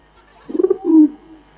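A voice imitates a pigeon cooing, a short run of rhythmic throaty coos followed by a longer drawn-out one, close and fairly loud.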